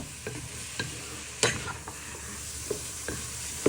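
Mince stirred around a frying pan for pork fried rice, an even sizzle broken by scattered scraping knocks of the utensil against the pan, close and moderately quiet with no talking.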